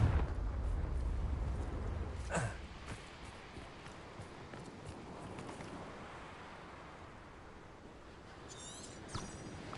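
A Confringo fire spell in Hogwarts Legacy bursts with a deep rumbling explosion, then fades into a long low roar with scattered crackles and a few sharp magical zaps, steady and moderately loud without talk.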